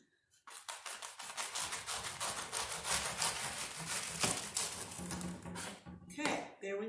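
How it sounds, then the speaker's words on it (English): A knife saws through the tough leaves of a whole artichoke, cutting the tip off for stuffed artichokes: steady rough rasping and crunching strokes, close and fairly loud, running for several seconds with brief taps at the end. "And now we're going to cut the tip off here."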